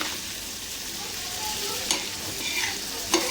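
Mutton brain (bheja) frying with turmeric, a continuous close sizzle with a couple of sharp utensil scrapes against the pan as it is stirred.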